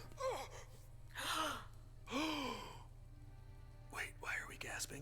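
Several breathy gasps in a pirate video game, three or four sharp intakes of breath spaced apart over a low steady hum, quiet and close.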